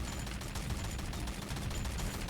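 Gunfire from a Free Fire match crackles in a dense, continuous stream of quick shots, fairly even in level and moderately distant.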